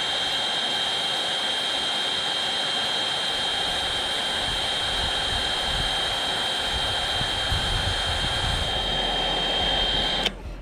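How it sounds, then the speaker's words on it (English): A heat gun blows a steady, loud whoosh with a high whine over Sea-Doo Spark plastic body panels, running continuously and close with no pauses before cutting off abruptly at the very end. "So I'm going to warm up my heat gun."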